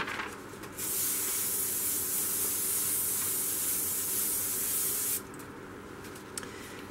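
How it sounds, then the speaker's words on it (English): A single steady hiss of an aerosol spray can onto a paper pattern for stained glass mosaic work, lasting about four seconds, fairly close, with quiet room sound before and after. "I spray that on my pattern just to give it a bit of grip"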